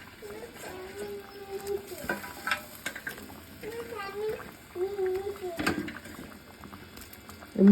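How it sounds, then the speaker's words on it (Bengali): Pieces of boal fish slide one by one into simmering gravy for a bori fish curry, giving a soft bubbling sizzle with light stirring and pattering. Someone talks steadily over the cooking sounds. "এর মধ্যে আমি মাছগুলো সব ছেড়ে দিলাম।"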